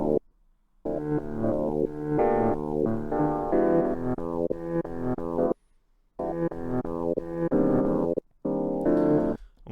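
Reversed and forward loops of a Russian jazz ensemble sample play layered together, a dense harmonic bounce with abrupt cuts and brief silent gaps between chopped sections.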